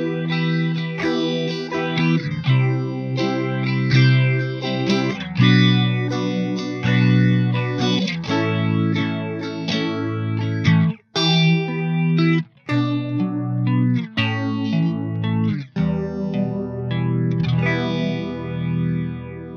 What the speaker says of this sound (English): so you get the phaser sound this way.